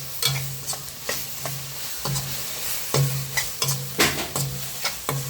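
Ground masala being stirred into a simmering Tamil-style chicken curry, with repeated scraping strokes of a spoon against the pan over a low sizzle, close and rhythmic, with no voices.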